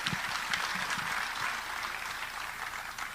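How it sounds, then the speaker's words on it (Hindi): An audience at a poetry mushaira in Dubai claps steadily, a dense wash of applause that holds at an even level throughout. "एक ज़ोरदार ताली"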